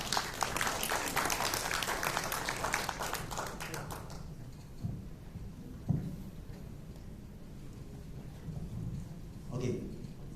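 An audience at a client gathering breaks into dense clapping that lasts about four seconds, then fades to a quiet room with scattered voices and a brief later stir.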